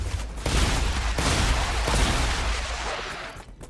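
Shotgun blasts in the video game StarRupture, a run of loud, close booming shots that crowd together, with a short pause before the firing fades out.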